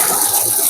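Water gushes steadily from a tap for washing chickpeas, a continuous close splashing rush with no pauses.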